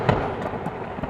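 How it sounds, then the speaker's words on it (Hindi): A sharp thunder crack from a lightning strike, a loud snapping burst at the start followed by crackling, rumbling noise that stays dense and fairly strong to the end. "तेज बिजली कड़कती है।"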